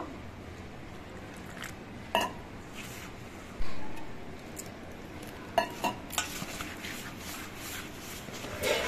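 A batter of flour, salt, turmeric and water is mixed in a bowl, with soft wet stirring and scattered clinks and knocks of a utensil against the bowl, fairly quiet and close.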